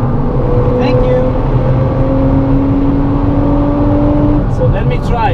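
A Nissan GT-R engine drones steadily at high speed on a race track, a loud sustained roar with rising harmonic tones, while a voice talks over it.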